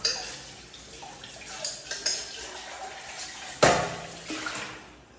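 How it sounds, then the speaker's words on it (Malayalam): Dishes washed at a home kitchen sink at night, with running water, clinking cutlery and knocking pots and pans, plus one sharp louder clatter partway through, all close by and with no one talking. "നൈറ്റ് കിടക്കാറാകുമ്പോൾ കഴുകി വയ്ക്കാറാണ്"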